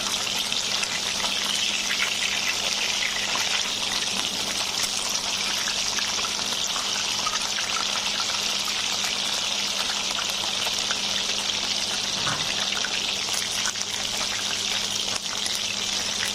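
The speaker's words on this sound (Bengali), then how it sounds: "মাংসগুলো এক পাশ ভাজা হয়ে গেছে। এবার আমি উল্টে দিচ্ছি।" Chicken pieces fry in a pan for garlic chicken, giving a loud, continuous sizzling hiss that holds steady throughout, with a brief disturbance as the pieces are turned over.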